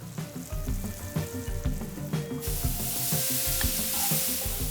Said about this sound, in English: Now add a little bit of olive oil and get the sizzling going.